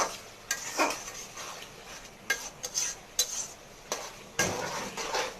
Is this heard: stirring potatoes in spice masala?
yes